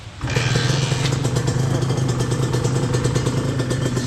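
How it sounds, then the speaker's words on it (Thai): A Honda NSR 150 SP motorcycle engine idles steadily up close, a loud, throbbing mechanical chug with rattling clatter that starts abruptly and runs continuously. "ฟังเสียงเครื่องดูครับ"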